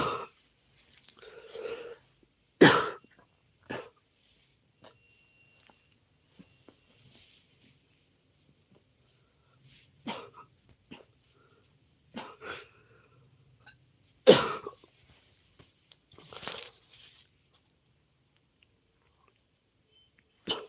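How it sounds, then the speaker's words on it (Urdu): Several sharp coughs and throat-clearing bursts scattered across a quiet room, loud and close, with a steady high electronic whine and faint insect-like chirping in the background. "ہم کو جو ہے نا دوبارہ کھانسی شروع ہو گئی ہے"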